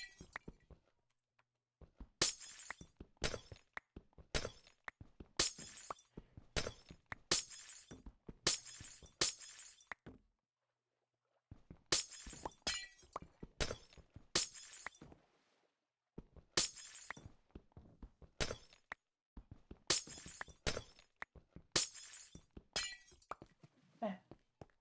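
Glass blocks of a border shatter one after another in Minecraft, sharp crisp breaking bursts in rapid clusters with brief silent gaps between runs.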